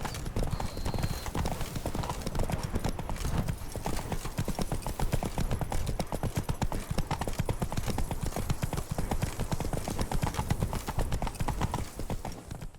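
A horse gallops steadily in The Witcher 3: Blood and Wine, its rapid hoofbeats running as a continuous loud rhythmic clatter, with a brief whinny and faint voices now and then.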